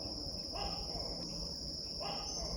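A Tokay gecko calling, its loud territorial call rising in two short bursts against a steady, high, insect-like chirring backdrop.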